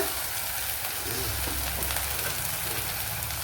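Browned garlic frying in a pan after liquid is poured in, while a fish dish is cooked: a loud, steady, dense sizzle and crackle runs throughout, with no voices.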